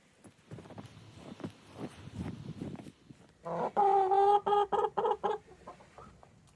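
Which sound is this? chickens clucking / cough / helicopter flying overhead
chickens clucking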